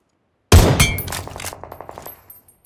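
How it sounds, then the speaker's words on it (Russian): Gunfire in the mobile shooter Metro Royale: a sudden loud shot after a moment of silence, followed by a quick rattling run of fainter rapid reports that trails off. "слышу выстрелы"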